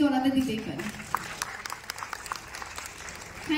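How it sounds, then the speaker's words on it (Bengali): Audience applause breaks out at a charity gathering for street children and stray dogs, a burst of clapping under and after a speaking voice, moderately loud and filling the room briefly. "আমরা একটা জোরে হাততালি কিন্তু ওনাদের দিতেই পারি"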